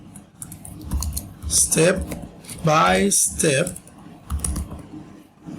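Someone types on a computer keyboard in quick, close bursts of clicking keys, with a person talking over much of it.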